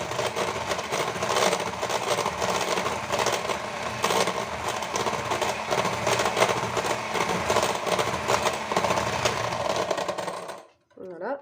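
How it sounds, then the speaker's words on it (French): Madeleine batter whisked again after 100 ml of milk is added, a busy continuous scraping and rattling of the whisk in the bowl that stops abruptly near the end. "je viens rajouter mes 100 ml de lait et on va venir fouetter à nouveau"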